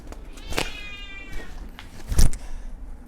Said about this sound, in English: As you hear the cat in the background.